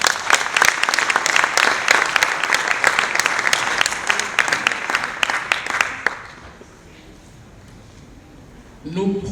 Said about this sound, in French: Est-ce qu'on peut applaudir pour ça?